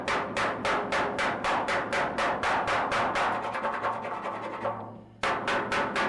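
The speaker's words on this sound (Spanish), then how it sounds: "para estos golpes, martillito este" A small hammer taps out dents in the floor panel of a Dodge GTX, striking fast and steadily at about three blows a second, loud and close, with a brief pause near the end before tapping resumes.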